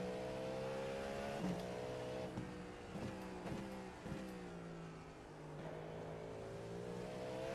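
Ferrari race car at the 12 Hours of Sebring, its engine howling past with rising and falling harmonic tones and sharp gear-shift breaks, steady and fairly close in a racing setting.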